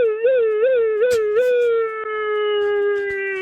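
A caller's voice imitates a British police car siren, a loud sustained wail that warbles up and down a few times, then holds a steady, slowly falling tone, close and alone over a faint background.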